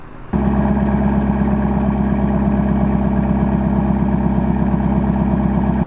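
A Camaro SS V8 with a Borla S-Type exhaust idles steadily and close by, a deep, even rumble with a regular pulsing beat from start to end.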